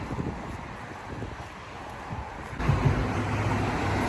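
Strong cold wind buffets the microphone with a steady rumbling roar, growing louder partway through, with faint road noise behind it, outdoors in the United States.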